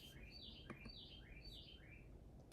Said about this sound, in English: That's the birds on my front porch.